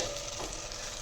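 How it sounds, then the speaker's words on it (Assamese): Pointed gourd (potol) slices frying in oil in a pan, a steady close sizzle with faint stirring scrapes, no voices. "পটল ভাজা হৈ গৈছে"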